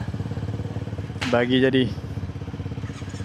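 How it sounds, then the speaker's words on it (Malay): A motorcycle engine turns over and catches in a short burst over a steady idling rumble from another nearby bike, while someone speaks briefly. "Kita pun nak start motor."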